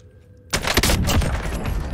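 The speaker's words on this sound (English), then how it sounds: "Are you shooting? Oh, he's shooting by you." Gunfire in a video game bursts in after a quiet half-second, a dense rapid volley of loud close shots that continues to the end.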